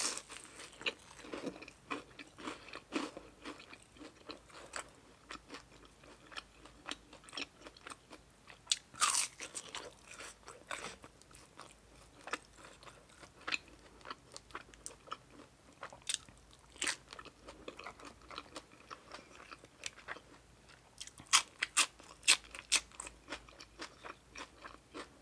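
Someone eats crunchy fried pork belly with fish sauce, with loud crisp bites and steady chewing crunches repeating close up throughout, no talking.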